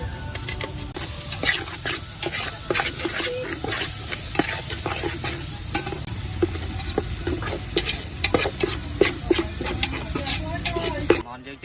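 Chicken frying in a pot for chicken rice soup, a loud continuous sizzle with repeated scraping and clattering of a utensil stirring, close and busy throughout.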